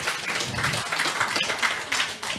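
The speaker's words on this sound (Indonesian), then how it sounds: "Sekali lagi tepuk tangan biar tambah semangat." Audience applause at an Islam–Christian debate, a dense steady wash of many hands clapping at close range that fills the hall without pause.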